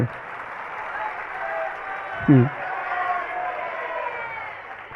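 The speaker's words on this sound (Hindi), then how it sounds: "तालियों की आवाज में तो वृद्धि हो गई" Crowd applause, a dense wash of clapping from many hands, steady and moderately loud, with a brief low thump partway through.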